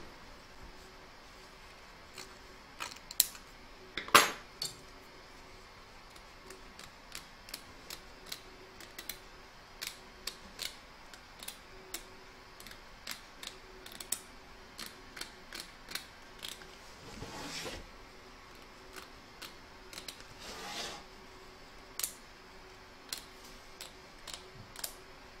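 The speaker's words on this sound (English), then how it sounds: "Trim up the excess fabric from both the back and front of your hoop" Scissors snip excess fabric away from the back and front of an embroidery hoop during llama appliqué machine embroidery, giving quiet, sparse clicks and snips spread across a near-silent background, with a few louder cuts.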